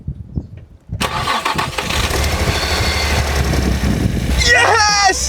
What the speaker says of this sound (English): Let's see if this is gonna start now.